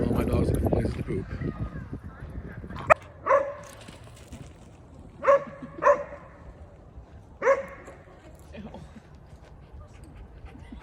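Dogs barking in short, separate bursts, about five barks spread over several seconds, heard from some distance against a quiet background after a voice at the start.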